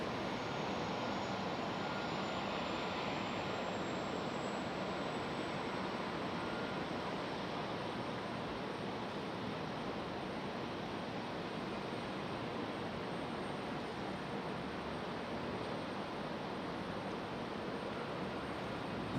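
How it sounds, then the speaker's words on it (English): A Delta E175 regional jet moves at the end of the runway in stormy weather, its engines giving off a steady, broad roar that stays even throughout, heard from a distance. "we've got that Delta E175 getting a move on out there at the end of the runway"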